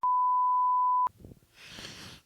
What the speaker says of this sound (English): bleep that out